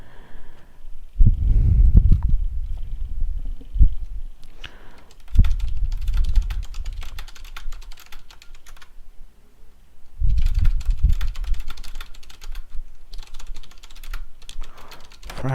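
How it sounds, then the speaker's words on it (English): Steady clicking of fingers typing on a computer keyboard, close and fairly loud, arriving in bursts split by short pauses, with soft thumps and low bumps in between and no talk. "I'm typing and talking"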